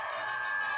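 Chicken in the video game Guacamelee 2 giving a short, steady clucking, crowing cry, a bright sustained electronic squawk that stays level throughout.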